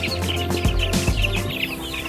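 Purebred German-line laying chicks and hens clucking and peeping continuously, several birds close by, a busy chorus of short calls with no talk over it.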